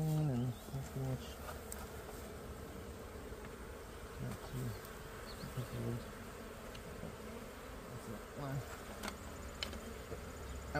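Honey bees buzz steadily around their hive box in a backyard apiary, a dense continuous drone with individual bees passing close, running the whole time with faint background noise.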